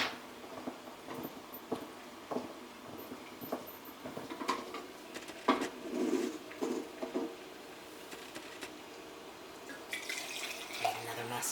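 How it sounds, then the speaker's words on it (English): Hot chocolate made with real chocolate is poured into a cup in a kitchen, giving soft irregular splashing and pattering with a few clinks, faint and intermittent over several seconds. "All right, we are ready to pour this into our next cup."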